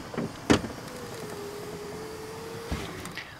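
The power window motor on a 1993–96 Cadillac Fleetwood runs with a noisy, steady whine that lasts a couple of seconds, bracketed by clunks and set against quiet background noise, with no speech.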